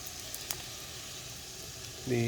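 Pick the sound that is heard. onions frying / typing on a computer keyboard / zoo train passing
onions frying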